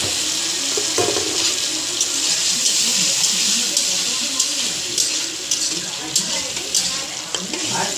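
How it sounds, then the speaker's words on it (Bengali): A little water is poured into a pan of frying spices and softened tomato, making a sustained splashing, sizzling wash that sits close and fairly loud, with no clear talking. "হালকা একটু জল দিয়ে দিলাম।"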